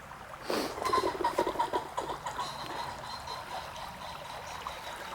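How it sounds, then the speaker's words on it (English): Spring water gushes and trickles out of a hole at the source of the River Thames, a steady close bubbling flow that swells after half a second and then carries on evenly without speech. "That's an awful lot of water coming out of a hole."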